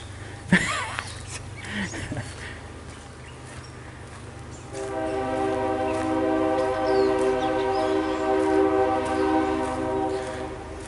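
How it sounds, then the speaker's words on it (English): Low rumbling gives way to a 30-car train passing close by on the Kanik Nature Trail in Calcium, New York, its horn blaring a long, steady chord over heavy rolling noise that grows louder. "That's pretty close though. The train."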